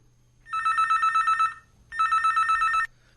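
A telephone rings for a radio phone-in call: two loud, close bursts of electronic trilling, each about a second long, separated by a short pause, with no voices.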